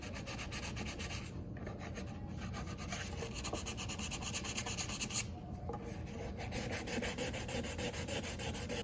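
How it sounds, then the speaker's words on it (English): Wood filler is being sanded on a ukulele body, giving a continuous, close, scratchy rubbing sound with steady back-and-forth strokes. Brief quieter gaps break the strokes, and no voices are heard. "I've finished sanding it all, getting all those little gaps filled in, and then sanded over top of that as well."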